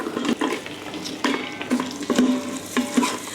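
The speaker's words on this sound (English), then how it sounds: "We're going to go in with the onion now." Chopped onion goes into an Instant Pot, giving a soft sizzle with repeated scraping stirs and light utensil knocks against the pot, close and fairly quiet with no voices.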